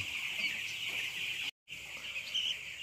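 Broiler chickens in a coop make a steady, dense chorus of high chirps and clucks that runs without a break except for a short moment of silence midway.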